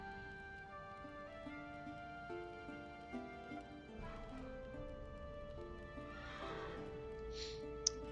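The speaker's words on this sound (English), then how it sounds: "we got some donkeys here" Donkeys in the fantasy strategy game Wartales bray and whinny over a steady game music bed, with a few clopping hoof sounds and brief, fairly distinct calls toward the end.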